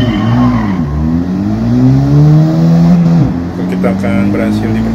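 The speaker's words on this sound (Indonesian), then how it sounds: "you need to accelerate off the line and stop inside the goal area" Car accelerating off the line then braking in Gran Turismo 7 during a National B License test, an engine note climbing through gears, dropping sharply as it slows, with someone talking over it.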